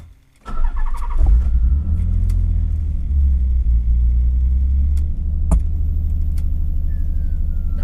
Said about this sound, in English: Okay, cold start time.